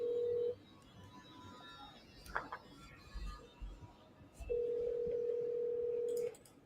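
A phone call to a lender gives two steady ringback tones, one short and one long, separated by quiet handling, a click and faint background noise.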